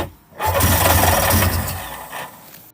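A small personal watercraft engine, a 1994 Sea-Doo GTX, cranks and sputters into life close by, roaring briefly before dropping back, a short rough start.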